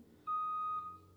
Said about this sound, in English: So it beeps on the way back too.